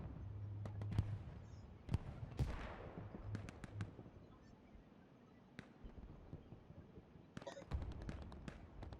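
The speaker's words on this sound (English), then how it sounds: "Oh, artillery, grenades." Artillery and grenade explosions in a tactical shooter video game match, a series of sharp, loud blasts and cracks scattered across a continuous noisy battlefield background, some near and punchy, others more distant.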